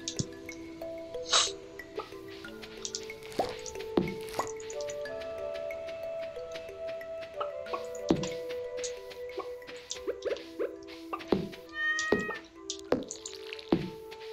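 A cat meows in the Stardew Valley farming game, with several short game-style meows and scattered clicks and chimes over steady background game music.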